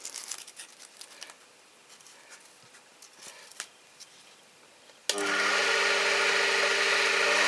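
A benchtop lathe starts up loud and steady partway through, with a constant whining hum and hiss as sandpaper polishes a workpiece, after several seconds of faint scattered clicks and rustling.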